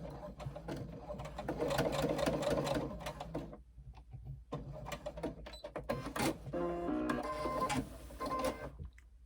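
A sewing machine stitches a seam on pleated fabric, its rapid mechanical chatter running in bursts that stop and restart, with a pause in the middle and a lighter, faster run near the end.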